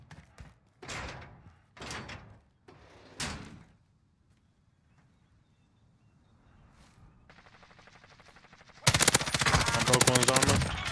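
Gunfire in Call of Duty Warzone: a few separate loud shots early on, a quiet stretch, then a long sustained burst of rapid automatic fire close by at the end.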